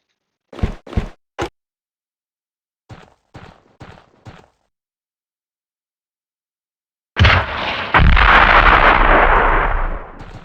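Explosives are set off during British commando training in an H&D add-on of a combat game. Several sharp clicks and thuds come first, then silence, then a loud blast rolls into a long, heavy roaring rumble.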